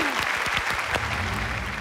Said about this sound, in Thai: ขอเสียงปรบมือให้กับเจ้าแม่สายเปรตซีดิว